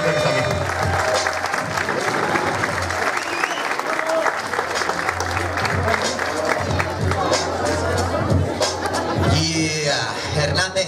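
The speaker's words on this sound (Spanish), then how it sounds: "otro fuerte aplauso para toda esta gente que está aquí" A crowd at an urban music festival concert applauds and cheers loudly and continuously, with shouting and chatter mixed into the steady clapping.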